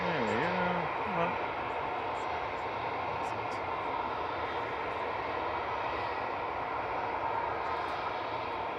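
An aircraft at Manchester Airport fills the air with a loud, steady roaring rumble that holds without break, a brief wavering tone showing near the start.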